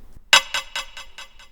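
High percussion sample in a pop drum beat with delay added: one bright hit followed by five or six evenly spaced echoes fading steadily in loudness.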